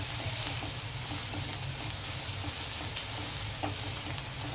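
Soya chunks fry with chili powder in a pan, giving a steady, even sizzle that hisses on without a break and with no voices.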